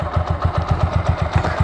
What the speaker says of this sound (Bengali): মানে স্টার্ট করে দেখাই তাহলে বুঝতে পারবেন বাইকটা এখনও ইঞ্জিনটা একদম ঠান্ডা